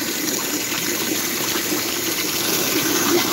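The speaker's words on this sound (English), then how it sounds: "I'm using the pressure of the water to help mix it in with the sugar syrup." Water from a hose gushes steadily into about five gallons of sugar syrup being mixed for bees, a continuous loud rushing and splashing with no talk.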